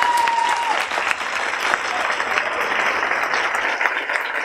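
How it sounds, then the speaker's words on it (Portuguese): Crowd applause at an outdoor hip hop dance battle event, a dense steady wash of clapping and cheering held at full level throughout, with a brief whistle near the start. "eu queria uma salva de palmas pra ela"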